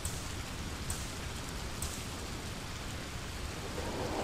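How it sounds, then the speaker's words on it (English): Steady rain in the game Gunpoint, a dense, broadband hiss of falling drops with a few brief sharper spatters, constant and fairly loud throughout with no voices. "And then the rain returns"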